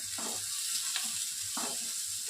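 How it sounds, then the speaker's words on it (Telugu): Sliced onions frying in a pan for chicken handi, a soft steady sizzle with faint stirring scrapes, quiet and close with no talking. "వీటిని వేసేసి మంచి గోల్డెన్ కలర్లో వచ్చేంత వరకు ఫ్రై చేసుకుందాము."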